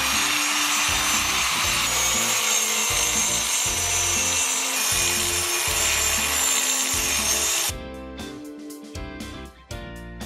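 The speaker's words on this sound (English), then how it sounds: "we're going to chase the cracks with a crack chasing blade on our grinder" A grinder fitted with a crack chasing blade cuts along concrete cracks with a loud, continuous abrasive whine and rhythmic drone, then the grinding changes to choppier, pulsing scraping near the end.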